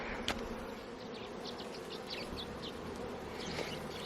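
A low, continuous hum of many honey bees buzzing close by around a new hive, with faint intermittent higher buzzes and a couple of small clicks.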